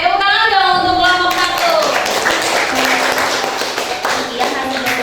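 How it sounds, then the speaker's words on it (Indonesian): Classroom applause for a presenting group of students, a dense burst of hand clapping lasting several seconds, with children's voices talking over it throughout. "tepuk tangan dong untuk kelompok"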